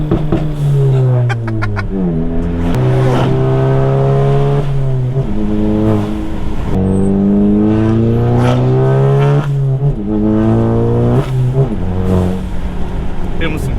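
A Stage 2 EQT-tuned MK7 accelerates hard in a snowstorm, its engine note climbing and dropping through a run of rapid gear shifts. The loud, close, continuous revving rises and breaks sharply at each shift.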